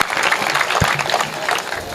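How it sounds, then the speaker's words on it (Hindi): A burst of audience clapping at a Hindi comedy poetry gathering, steady and fairly loud, filling the short moment with a dense patter of hands. "एक बार तालियां बजाइए"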